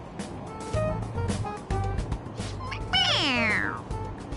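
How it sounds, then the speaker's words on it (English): A toy cat in the video game Persona 5 Royal gives a few electronic meows, the last one a long rising-falling cry, against a steady hum of background noise. "It meows when you press on its head."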